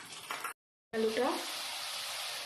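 Potatoes sizzle in a hot frying pan, a steady broadband hiss that starts after a brief silence and continues loud and even, with a few clinks of stirring early on.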